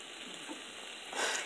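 Potato tipped into a pan of frying mixed vegetables and stirred, a steady close sizzle that swells louder near the end.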